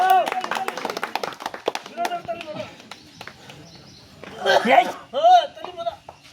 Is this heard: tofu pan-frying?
no